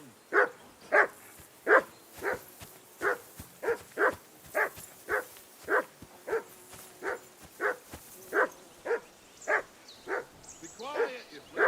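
A dog in Kingdom Come Deliverance II barks repeatedly in a steady rhythm, around twenty evenly spaced woofs, moderately close and loud, with a short whine at the end.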